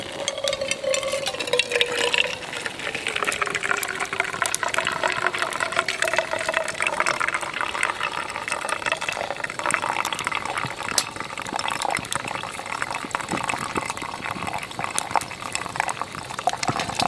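Water trickles and splashes steadily onto coffee grounds in a drip brewer beside a wood stove, a close, continuous pour with a gurgling bloom, no speech over it.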